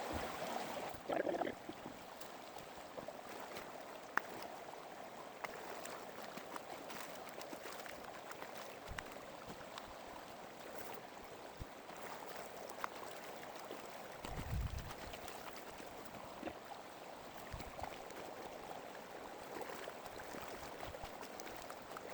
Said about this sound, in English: We're gonna go ahead and pan it out in the creek right here.